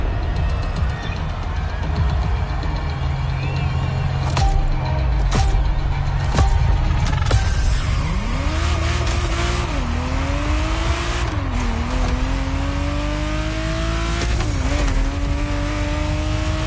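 Ferrari Testarossa engine in The Crew Motorfest racing game, loud and steady, with revving pitch sweeps as it climbs through gears and tire squeal, continuous and close throughout.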